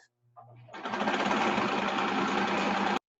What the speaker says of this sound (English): And I'll just backstitch that to make sure it stays.